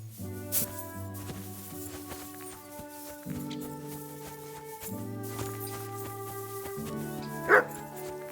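A dog barks in Kingdom Come: Deliverance 2, faint yips and barks at a distance, heard under sustained musical tones with a few soft footsteps.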